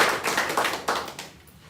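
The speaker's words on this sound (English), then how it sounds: "Let us clap for" A small audience at a district office handover gives a brief patter of hand claps, several quick overlapping slaps that fade within about two seconds.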